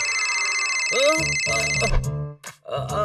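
A phone rings in a Hindi cartoon, an electronic ringtone trilling steadily before cartoon voices cut in with short exclamations over it.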